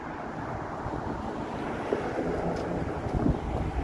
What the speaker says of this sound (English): A little gust of wind was too much for my gimbal.